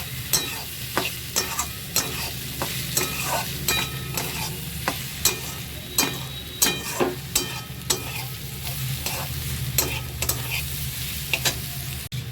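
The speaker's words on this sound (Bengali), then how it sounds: "আদা আর রসুনটাকে আর একটু ভালো করে ভেজে নেব" Ginger and garlic frying in a pan, a continuous sizzle broken by regular sharp spatula scrapes and taps, close and fairly loud, with no talking.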